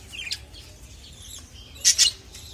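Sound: budgerigar chicks chirping as they are put in pot nest

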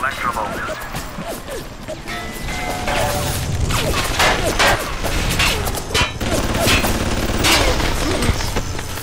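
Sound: turret firing in BioShock video game

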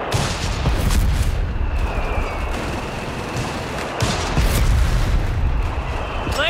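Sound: mortar fire in the video game Company of Heroes 3

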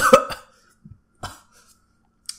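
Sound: loud coughing

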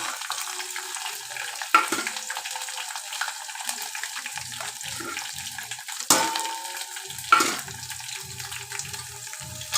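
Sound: frying dried red chillies and greens in a pan

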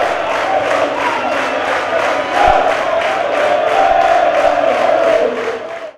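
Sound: football crowd cheering after a penalty goal

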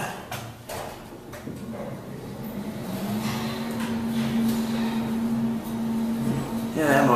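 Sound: Payne traction service elevator motor running

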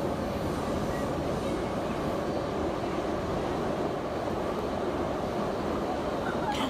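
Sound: subway train riding

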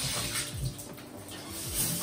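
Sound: shower water running

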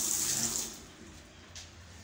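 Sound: water running from a tap into a sink

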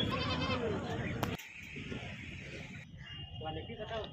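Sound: goat bleating at a goat market

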